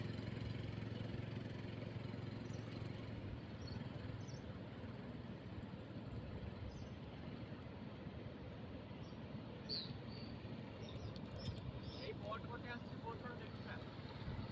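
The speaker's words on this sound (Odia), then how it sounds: "ଏଇଟା ଗୋଟେ ବୋଟ୍ ଆଉଛି" A motor boat's engine drones steadily as it approaches, a faint, continuous rumble under wind noise during heavy rain and rising tidal water.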